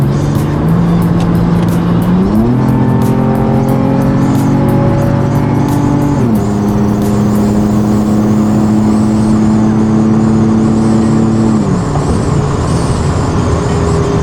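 A car engine revs hard during a horsepower dyno test, with a loud continuous drone that climbs and settles in stepped pitch changes, like shifting through gears, held for many seconds.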